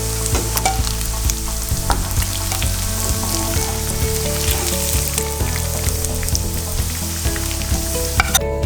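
Fish frying in hot oil in a pan gives a loud, constant sizzle with crackling pops throughout, close up and with no voices.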